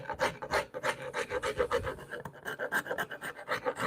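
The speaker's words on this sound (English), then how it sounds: "Got like this farrier rasp here." A farrier rasp scrapes back and forth across a piece of scrap wood in quick, even strokes, each pass a rough close-up grating rasp in a steady rhythm.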